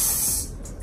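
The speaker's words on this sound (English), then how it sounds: "cause you gotta spray in the toilet" A short burst of aerosol spray hisses into a toilet in a bathroom, a loud, close airy rush that tapers off within a second, with no talking.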